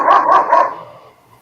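A dog barks three times in quick succession, loud and close, then the sound trails off into quiet.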